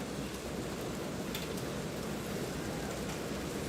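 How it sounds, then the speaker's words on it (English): Heavy rain pours steadily onto a soccer field during a match, a dense, even hiss of downpour that is close and continuous, with no talk over it. "the rain is coming down hard"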